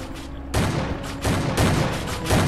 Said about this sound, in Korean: 여기 레이저를 쏘고 있는데요